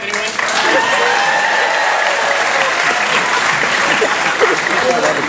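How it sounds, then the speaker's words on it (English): A crowd at a comedy event on a cruise ship claps in sustained, loud, dense applause lasting several seconds, with faint voices mixed underneath. "No, don't applaud."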